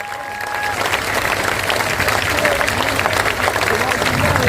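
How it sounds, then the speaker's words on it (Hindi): A crowd at a political gathering breaks into loud, sustained applause that swells after a brief start and keeps going densely throughout. "जोर से ताली बजाइए।"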